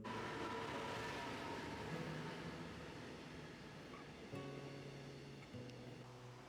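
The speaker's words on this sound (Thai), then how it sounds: "พอรถไฟมาถึงนะคะ" A CNR express train arriving at a station in Bangkok rumbles steadily nearby, fading slightly as it slows, with a faint squeal and low tonal hum near the end.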